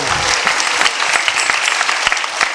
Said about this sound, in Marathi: जोरदार टाळी वाजवा